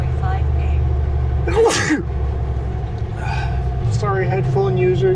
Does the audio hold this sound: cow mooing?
no